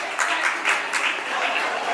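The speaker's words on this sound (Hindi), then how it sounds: "जोरदार तालियां साक्षी के लिए।" A crowd at a Jain temple event celebrating Kshamavani claps loudly for Sakshi. The applause is dense and continuous, with a few sharper bursts, and no voice rises over it.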